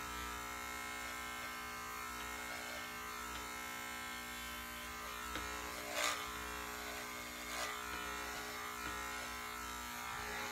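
Electric shaver cutting hair on the side of a head for a mullet with tiger stripes, a steady close buzz with a couple of brief louder bursts as it bites into the hair.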